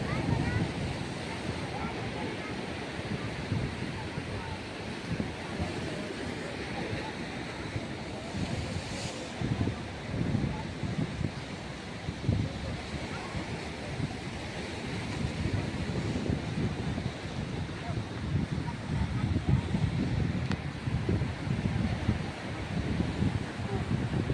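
Sea waves roll in at Worli Sea Face in Mumbai, heard as a continuous broadband surf roar with heavy wind buffeting the microphone across the whole stretch.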